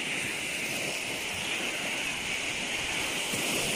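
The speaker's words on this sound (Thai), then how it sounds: "บรรยากาศริมทะเล" Steady seaside surf at a quiet beach, a continuous broadband wash of waves with airy hiss and faint wind, holding evenly for a few seconds with no voices.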